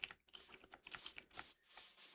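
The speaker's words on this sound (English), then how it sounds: "sorry for the keyboard clacker" Rapid, uneven clacking of a computer keyboard being typed on nearby, with bursts of keystrokes separated by short pauses and no voices.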